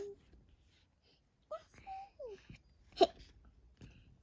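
A young boy reading a children's book aloud imitates a hiccup with his voice: one sharp, quiet vocal hiccup among soft, brief voiced sounds and near-silence.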